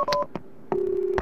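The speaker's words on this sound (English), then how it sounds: "I need to make a call." A telephone is dialed in the Max Payne 2 video game, with several short keypad tones in quick succession followed by a longer sustained tone, clear and close with no talking.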